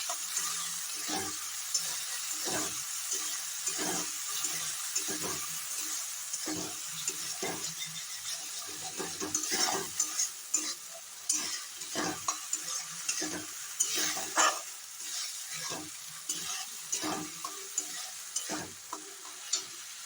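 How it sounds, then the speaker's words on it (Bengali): Green chilli, ginger, garlic and tomato paste frying in a pan while being stirred, a continuous sizzle broken by repeated scraping strokes of a spoon, close and steady with no talking. "আর এই কাঁচা গন্ধটা ওঠা পর্যন্ত আমাকে এটা ভাজা ভাজা করতে হবে।"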